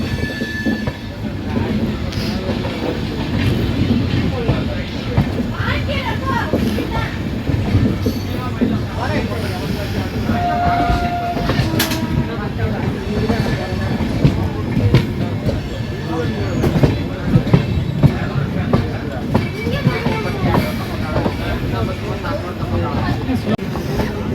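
An express train rolls into Nagapattinam Junction with a steady rumble and clatter of wheels on the rails, plus a brief squeal partway through, alone and close throughout.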